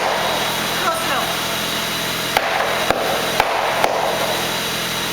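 A bung is hammered into a whiskey cask in a distillery, heard as four sharp, separate wooden bangs spaced about half a second apart over a loud, steady hum of machinery and room noise.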